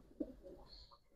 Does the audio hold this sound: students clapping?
no